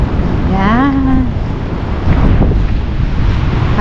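Sea waves wash on the shore at an Aberystwyth seaside, a loud continuous roar heavy with wind buffeting the microphone, with a brief voice early on.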